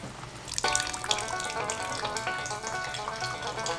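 Gasoline drains from a 1967 Ford F100 in a steady splashing trickle that starts abruptly and keeps pouring close by, with no talking.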